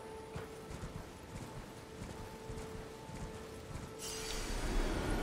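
Horse hooves clip-clopping at a steady walking pace in the video game Elden Ring, a faint regular beat over a low ambient background, followed by a rising rush of sound at the end.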